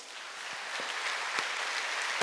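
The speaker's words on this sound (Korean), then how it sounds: "하나님께 박수 주세요" A church congregation at a Sunday worship service applauds in a soft, steady wash of distant clapping, with a few sharper claps standing out.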